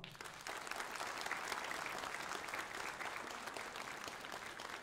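Sustained applause from a concert audience at a Silesian hit-song event, starting after a brief pause and holding as a dense, even, fairly distant wash of clapping throughout.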